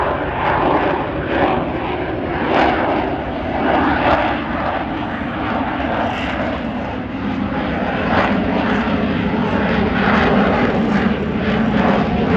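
RAAF C-27J aircraft flying at the Richmond airshow in NSW, a loud, steady propeller-engine roar sustained throughout, with slight swells in intensity as it passes.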